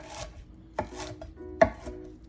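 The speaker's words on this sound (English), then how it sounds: "we'll just give it a couple chops." Fresh mint leaves chopped on a board with a knife, three distinct close chops spaced under a second apart, no speech.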